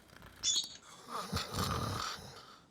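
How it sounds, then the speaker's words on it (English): Cartoon snoring from Ryuji in the video game Persona 5 Scramble, a faint drawn-out nasal snore with a growly rasp, heard quietly in the background. "And Ryuji snoring."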